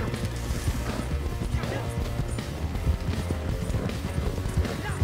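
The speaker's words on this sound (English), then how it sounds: "His horse almost knocked me off!" In Red Dead Redemption 2 Online, horses gallop with steady, close clip-clop hoofbeats and thuds, under excited voices talking over the action.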